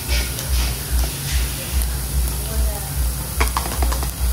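Chicken kheema with garam masala, kitchen king masala and Malvani masala frying in oil, a dense close sizzle over a pulsing low rumble, with a quick run of stirring clicks toward the end.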